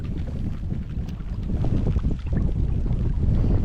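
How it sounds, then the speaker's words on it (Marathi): Heavy wind roars against the microphone at the end of a creek as rain begins, a loud low-frequency buffeting that swells slightly and continues without pause, no voices present. "वारा पण सुटलाय भरपूर"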